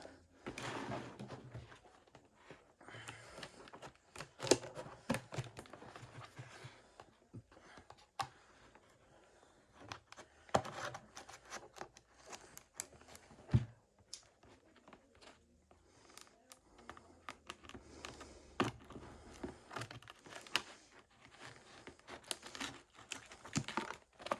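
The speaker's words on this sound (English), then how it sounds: "So let's cut open the top of the box." Someone cuts open and unwraps a cardboard box holding an old-school Traxxas Revo 2.5R remote-control item. Irregular crinkling, tearing and scraping bursts come close up, with a few sharp knocks and occasional quiet talk in between.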